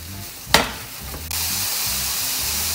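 Mushrooms are tossed into a very hot pan with chicken thighs: a sharp clatter, then a loud, continuous hiss of vigorous sautéing that swells and holds steady, close and with no talk.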